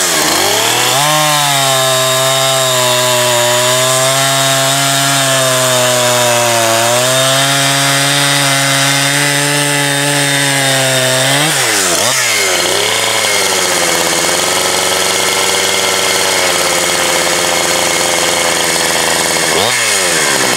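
A chainsaw fitted with an aftermarket carburetor restarts hot and runs, holding a loud, steady, near idle-to-high drone for about twelve seconds before revving sharply, settling, and revving again near the end; no talk.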